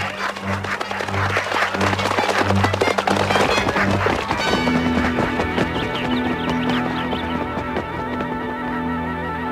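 Cartoon hunters' gunshots crack in a loud, dense volley of rapid bangs during the first few seconds, mixed with music, then thin out as the music carries on.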